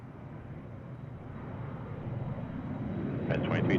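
An Embraer 175 jet airliner rolls for takeoff at Seattle airport, a broad low engine roar building steadily in loudness throughout, with a brief whine near the end.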